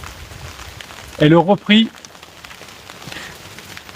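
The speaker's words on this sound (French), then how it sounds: "comme il pleut fort, la pluie tombe sur mon téléphone et ça fait des bugs" Steady heavy rain patters across a phone, a soft continuous wash beneath a short burst of spoken words.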